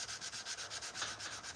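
A knife blade being hand sanded with 400 grit sandpaper at a forge, a steady back-and-forth rasping with about eight even strokes in quick rhythm, quiet and close with no talk.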